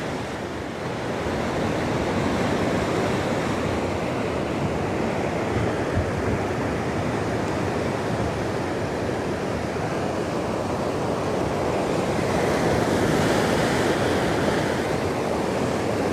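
Sea waves roll in beside Margate pier, a broad continuous wash of surf with slow swells, mixed with steady wind rumble on the microphone and no talking.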